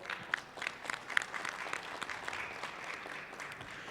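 Audience applause at a weekly political assembly in Mexico, a steady patter of many hands clapping at moderate distance with a few sharper individual claps near the start, fading slightly toward the end.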